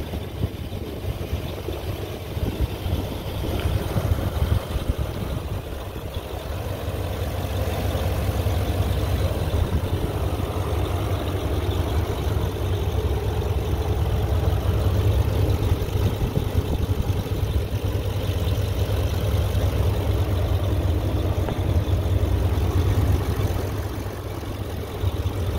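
A 2016 Chevrolet Silverado 3500HD heavy-duty pickup fitted with an AFE air intake idles nearby, a steady low rumble with a faint hiss holding evenly for the whole stretch, with no talking.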